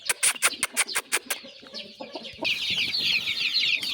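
A rooster in a home poultry yard clucks in a quick run of sharp, evenly spaced calls, then a dense, steady chorus of high chirping takes over.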